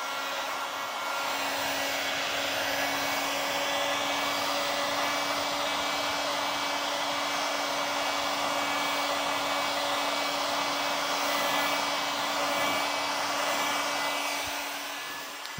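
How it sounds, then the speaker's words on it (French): A heat gun blows steadily on the protective film of a Porsche GT3 RS Weissach, giving a constant, close whirring hiss with a faint hum, loud and alone for about fifteen seconds. "Donc décapeur thermique."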